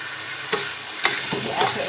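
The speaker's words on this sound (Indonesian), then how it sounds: "diaduk dulu supaya bumbunya di bawah nggak gosong ya teman-teman" Spices and rinsed dried shrimp stirred in a frying pan, a soft steady sizzle with a few brief scraping strokes of the spoon across the pan, close and alone.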